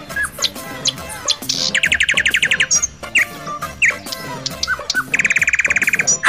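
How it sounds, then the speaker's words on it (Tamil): A house sparrow chirps repeatedly at close range, with short sharp tweets and bursts of rapid trilled notes in an irregular rhythm and no voices over it. "இது சிட்டுக்குருவி"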